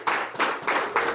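Church congregation clapping in praise during a service, four quick rhythmic rounds of clapping in steady tempo, moderately loud and close.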